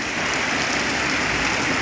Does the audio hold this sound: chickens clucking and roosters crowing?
no